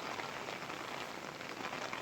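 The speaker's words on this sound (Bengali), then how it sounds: "এই বছরের সেরা বৃষ্টি হয়তো এটাই" Heavy rain pours steadily in a Bangladeshi village area, a dense, even hiss of drops drumming on surfaces that holds at the same loudness throughout, close by and with no voices.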